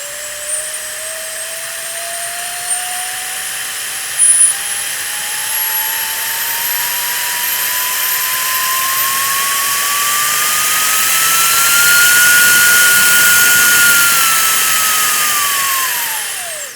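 A Fanttik MegaBoost 150,000 RPM cordless air duster's motor whines loudly and close, its pitch climbing steadily as the speed steps up, then dropping away at the very end; no one speaks.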